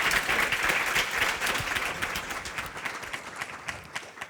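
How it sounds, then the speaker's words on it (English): Audience at a chemistry industry panel discussion applauding the panelists, full clapping at first that thins and fades into scattered individual claps. "I'd like to give a round of applause to our amazing panelists"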